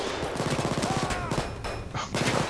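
Rapid gunfire during a heist shootout in Payday 2, a dense burst of rattling shots and overlapping volleys, loud and close, with brief pauses between bursts.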